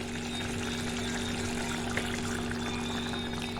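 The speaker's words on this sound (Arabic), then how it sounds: "هاوليك الرز نشف، دوك نديرلو ما سخون." Hot water poured onto dried rice in a pot, a steady, loud, continuous gush with a constant pump-like hum beneath it, alone without talk.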